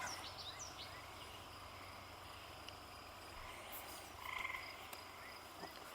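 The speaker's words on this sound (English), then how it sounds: "We're getting the tree toads now. Hear them singing? I love that sound." Tree toads trill steadily in a dense, continuous chorus, with insect chirping mixed in and no voices.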